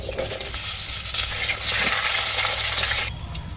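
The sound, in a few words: potatoes added to hot oil, frying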